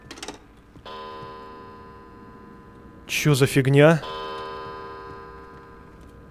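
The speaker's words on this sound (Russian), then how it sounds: "Часы." Steady ticking of a clock inside a creepy house in the video game Underhell, running evenly in the background while a man briefly exclaims over it.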